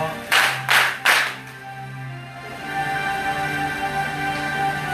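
Short bursts of audience applause and cheering at a children's talent show, three quick rounds in a row, loud and close, followed by a sustained tonal hum and room noise.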